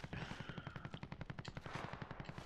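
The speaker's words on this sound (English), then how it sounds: "So much shooting." Rapid automatic gunfire in Call of Duty Warzone at the port, a loud burst of evenly spaced shots rattling for a couple of seconds with no voice over it.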